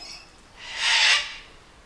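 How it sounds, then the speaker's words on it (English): A single harsh, drawn-out cockatoo screech swells and fades over about a second, moderately loud against a quiet outdoor background. "Nearly sounds like seagulls, but they're cockatoos"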